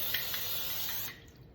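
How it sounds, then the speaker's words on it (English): Cooking spray hisses onto a rack of competition-style ribs in one steady, close spray lasting about a second before cutting off. "we're going to add a layer of cooking spray"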